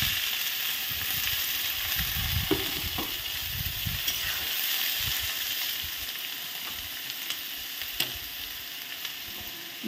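Boiled bottle gourd peels frying in mustard oil with peanuts, sesame and dried chillies, producing a continuous close sizzle with scattered clicks and scrapes of stirring, with no voices.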